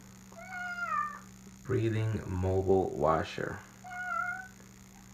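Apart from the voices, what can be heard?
cat meowing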